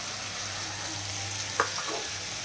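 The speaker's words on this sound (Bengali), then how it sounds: "এটা সুন্দর করে মশলার সাথে মিশিয়ে দিতে হবে" Pumpkin being stirred into spices frying in a pan for a pangas fish curry, a steady low sizzle with a brief scrape of the spoon partway through.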